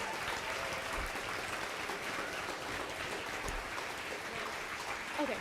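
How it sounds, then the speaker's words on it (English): Clapping from a crowd of spectators at an FTC robotics tournament, a continuous, even wash of applause heard from some distance, moderately loud and unbroken, with no talking over it. "Let's give a big round of applause for everyone competing here today."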